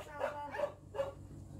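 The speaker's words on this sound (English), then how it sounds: "Did you hear Pea bark?" A few sharp dog barks ring out, somewhat distant, over steady background noise and rain.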